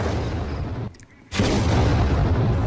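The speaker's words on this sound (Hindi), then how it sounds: "लेबनान पर इजरायली मिसाइलें लगातार गिर रही हैं।" Israeli air strikes on Lebanon produce a loud, continuous blasting roar that drops away briefly and then surges back just as strong.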